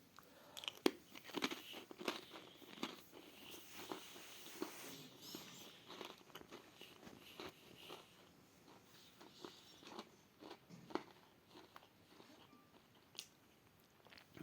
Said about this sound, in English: Let's have a taste of the snowy polar bear.